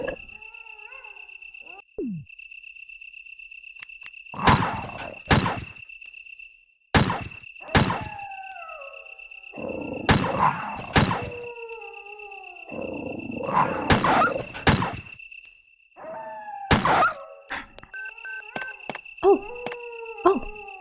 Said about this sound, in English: I can hear the dogs. The dogs and crows are just...